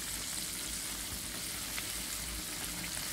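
Chicken frying under a lid in a pan, a soft continuous crackling hiss at low level, steady and muffled without breaks or voices.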